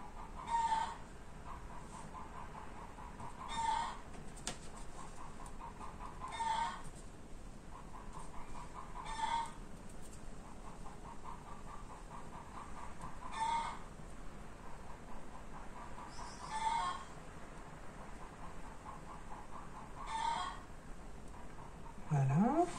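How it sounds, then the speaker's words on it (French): Hens cluck steadily in the background while a rooster crows several times at regular intervals, each crow standing out above the clucking. "je pense que vous entendez mes poules."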